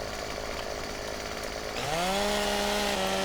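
A chainsaw in Farming Simulator 2015 cuts into a tree, its engine revving up partway through to a loud, steady high whine over continuous rough noise.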